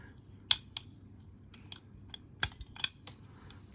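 Angle cutters snipping thin styrene plastic sheet: quiet, close, sharp clicks and snaps, a handful of isolated cuts spread irregularly over a few seconds against a faint low hum.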